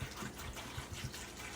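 Water pours steadily into a bowl set under a running stream, a continuous gushing splash with faint low thumps and no talk over it.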